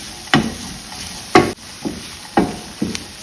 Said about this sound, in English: So you still have to stir it in because the sugar has to cook on the coconut